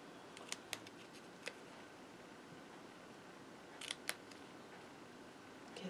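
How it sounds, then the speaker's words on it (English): Scissors snip through cardstock while a butterfly greeting card is made at a craft table, a few crisp isolated cuts in quick pairs against a quiet background. "I'm going to cut from this outside corner to that bottom of that slot that I just cut."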